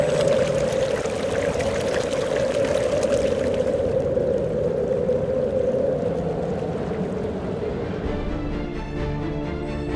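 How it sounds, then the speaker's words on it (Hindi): The Spiti River in Lahaul and Spiti rushes and babbles continuously, a steady close wash that softens slightly toward the end. "स्पीति नदी की कलकल।"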